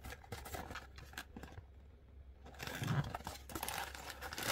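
Plastic packaging of a small Gundam model kit being opened, soft crinkling and rustling close by, quiet overall with a brief lull midway before the crinkling returns.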